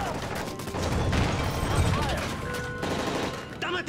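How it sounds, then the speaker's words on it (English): Gunfire during a plane hijacking in the Call of Duty 4: Modern Warfare video game, a dense, continuous clatter of shots under shouted dialogue, with a brief burst of voices near the end. "That's gunfire!"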